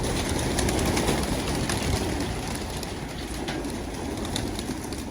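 Pigeons being let out of their coop coo over a dense, steady rushing background that stays fairly loud throughout, with no voices.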